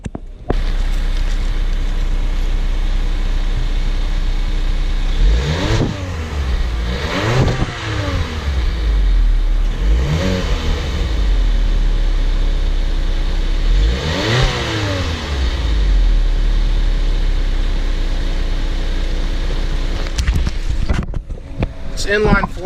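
A 2016 Volkswagen Jetta SE TSI with a turbocharged inline four-cylinder idles loudly up close, then is revved four times in sharp rising and falling sweeps before settling back to a steady hum.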